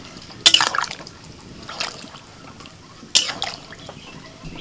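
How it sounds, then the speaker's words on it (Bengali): Water poured from a mug into a pot of soya pulao rice, two short splashing pours a few seconds apart with faint dribbling between, close and moderately loud. "এটাতে আমি দু মগ জল দিচ্ছি এক মগ দিয়েছি আর এক মগ দিয়ে দিচ্ছি"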